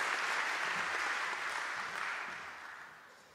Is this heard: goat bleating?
no